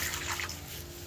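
Water is poured and splashes briefly and steadily into a bowl or pot in a kitchen where chicken curry is being cooked.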